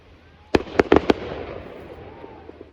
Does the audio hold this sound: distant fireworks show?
yes